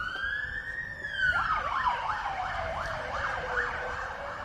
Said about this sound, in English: Ambulance number 2 for the day here at Marion.